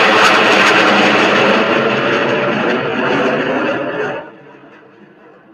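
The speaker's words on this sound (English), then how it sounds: "the fighter jets, the sounds," A loud, dense roar of fighter jet engines dominates, holding steady for about four seconds before abruptly dropping off into a faint fading rumble.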